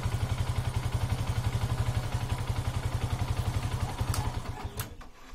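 Yamaha FZ V2.0 motorcycle engine idling while warming up for an oil change, a steady, rapid low thudding pulse close by, with a couple of sharp mechanical clicks near the end.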